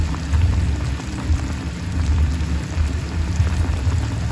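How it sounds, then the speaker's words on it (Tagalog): Laing, taro leaves in coconut milk, simmering in a pot: a continuous bubbling, popping boil with a low rumble, steady and fairly close, no talk. "Kumukulo-kulo na."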